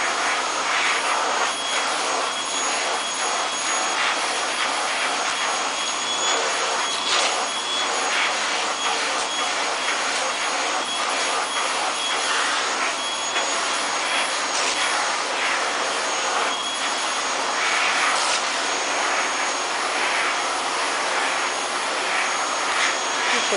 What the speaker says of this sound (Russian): Это я доказательство, что этот пылесос включен.